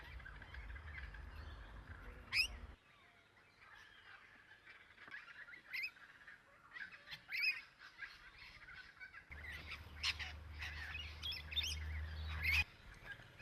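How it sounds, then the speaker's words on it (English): Rainbow lorikeets on Australia's eastern seaboard give a handful of sharp, high screeching calls at irregular intervals, some fairly close, over a steady outdoor background. "Rainbow lorikeets with their spectacular plumage are found all along the eastern seaboard."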